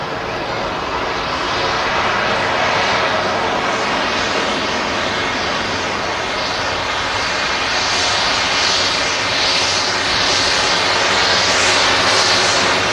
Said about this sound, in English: We've got a jet stream with Eastern Airways just touched down as well.